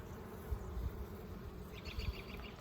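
Honeybees buzz around a hive frame in a soft, continuous low hum with occasional nearby wingbeat swells, quiet and without talk.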